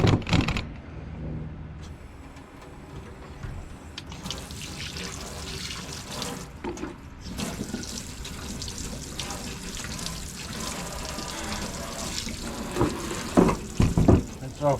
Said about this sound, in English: Now let's rinse it off.